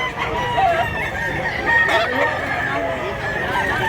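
Roosters crow and chickens cluck continuously at a busy chicken market in Cebu, several birds calling at once with overlapping crows, close and loud over a murmur of crowd noise.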